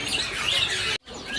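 Rapid, high-pitched chirps from an imported bushlark pour out continuously, a busy twittering song that cuts off briefly near the end before resuming.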